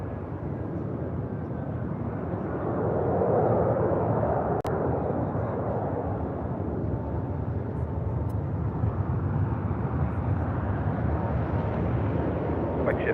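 United Dreamliner jet rolling down a runway at LAX, a steady broad roar of engine and rolling noise holding throughout, with a radio-like voice briefly over it.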